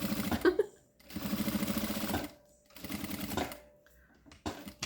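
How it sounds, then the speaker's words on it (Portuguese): A sewing machine runs in short bursts of rapid stitching, sewing a narrow safety seam around the edge of a double pencil case in a school kit, with brief pauses between runs and no talking. "Agora você vai costurar uma costurinha de segurança a toda volta."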